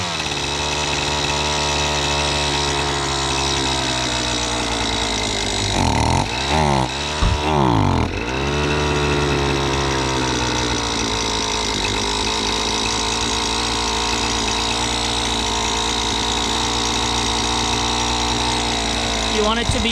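A small engine runs at a raised idle, a steady nearby hum that briefly surges and wavers midway before settling back to an even drone.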